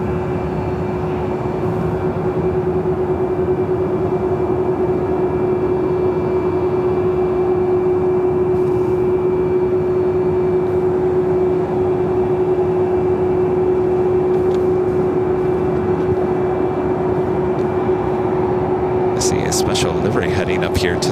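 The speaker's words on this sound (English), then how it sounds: "This is the 737 MAX 8 flight heading to Portland." An Alaska Airlines Boeing 737 MAX 8 in a special livery taxis for takeoff at LAX, its engines giving a loud, steady drone with a sustained tone, while someone talks over it.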